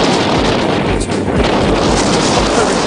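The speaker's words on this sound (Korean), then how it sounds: "와, 이 바람 소리 들리세요?" Strong wind roaring across a mountain summit trail on Hallasan, a loud, continuous rushing blast buffeting the microphone with no let-up.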